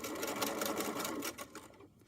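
Home sewing machine stitching the back panel of a fanny pack at a 1/4 inch seam allowance, a steady close mechanical whirring that runs continuously before tapering off near the end.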